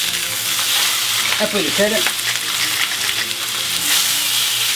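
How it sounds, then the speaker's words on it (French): A 1.5 kg beef filet sears in a hot pan for chateaubriand, giving a loud, steady sizzle throughout while a person briefly speaks French over it. "on le fait saisir sur tous les côtés"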